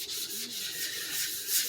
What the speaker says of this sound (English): I am wet sanding the body in order to get all the little,